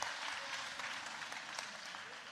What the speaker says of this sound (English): let's give another round of applause for our